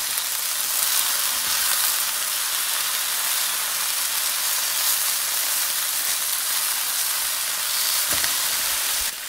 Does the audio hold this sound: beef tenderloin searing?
yes